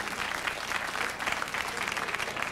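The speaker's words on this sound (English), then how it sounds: "I think we should all give Bruce a big hand out here and some encouragement" A studio audience at a 1992 California telethon applauds a guest with steady, dense clapping, moderately distant, lasting throughout.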